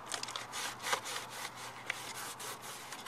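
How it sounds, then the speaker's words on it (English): A washcloth soaked in bleach solution scrubs the inside of a styrofoam egg incubator, a faint, close, rapid series of rubbing and squeaking strokes in uneven rhythm, with no talking. "now we're gonna use our washcloth for this part, just so my scrub brush doesn't tear up any of the styrofoam in this incubator."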